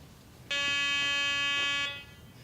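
A Garrett PD6500i walk-through metal detector sounds its alarm on a razor blade, a single bright electronic tone lasting about a second and a half, clear and close, with no talk.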